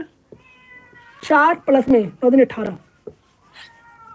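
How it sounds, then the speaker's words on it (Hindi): A cat meows several times in a row, loud and close, with drawn-out wavering cries and a short trailing call at the end. "बिल्ली रो रही है, इसको मार के आता हूँ पहले"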